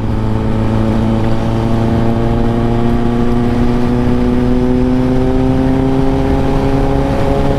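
A Kawasaki Ninja ZX-10R motorcycle cruises on a highway, its engine droning loud and close with a steady, slowly rising hum and no pauses.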